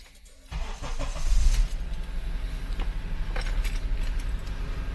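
A car engine cranks and fires about half a second in, then settles into a steady, close, fairly loud idle with no one talking.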